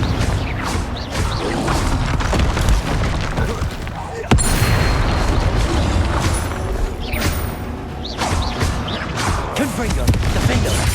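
Repeated blasting-spell explosions from the Confringo curse in Hogwarts Legacy, booming and crackling in a dense, continuous barrage of combat effects with a sharp crack near the middle.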